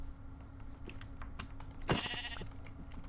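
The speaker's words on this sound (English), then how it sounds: "we're gonna kill this sheep over here" A sheep bleats once in the SevTech Minecraft modpack, a short game-sound bleat standing out against a quiet background of faint clicks and keyboard-like taps.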